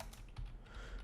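Quiet keystrokes tap on a computer keyboard while typing a pip install command into a Windows command prompt, a few soft, quick clicks.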